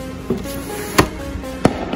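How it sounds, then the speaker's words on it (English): A firework going off on the first of July, heard as three short, sharp cracks spread over two seconds; the second and third are the loudest, over a quiet background. "Oh my god, it is a firework!"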